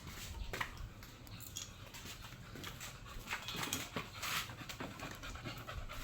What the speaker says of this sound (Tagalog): Hingal na talaga siya guys, oh.